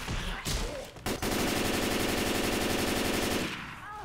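Sustained automatic gunfire in the co-op zombie shooter Left 4 Dead 2, a dense, loud, rapid stream of shots lasting nearly three seconds after a couple of short bursts, then trailing off.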